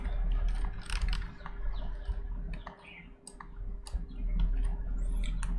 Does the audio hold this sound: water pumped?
no